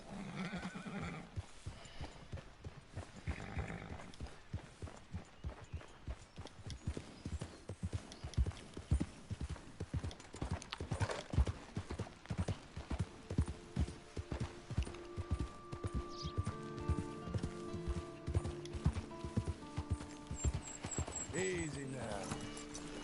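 Horse hooves clip-clop steadily in Red Dead Redemption 2 as the horse walks, joined by a whinny, with in-game music and someone talking over the top.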